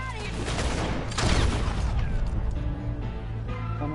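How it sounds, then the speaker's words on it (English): Gunshots crack steadily through a western shootout in a video game, with rapid overlapping bursts over a busy background of action and clatter. "We're shooting our way out of here!"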